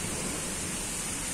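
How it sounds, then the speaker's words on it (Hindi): Heavy rain pours in Murree, a dense, even hiss that is loud and continuous, with no voices heard. "अलग किस्म की बारिश हो रही है।"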